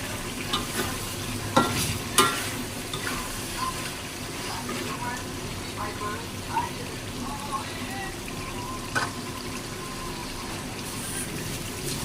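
Spices sautéing in oil in a pot for biryani, a steady low sizzle with scattered stirring scrapes and clinks, fairly close and continuous throughout.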